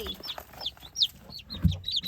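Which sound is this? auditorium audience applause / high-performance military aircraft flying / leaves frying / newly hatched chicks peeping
newly hatched chicks peeping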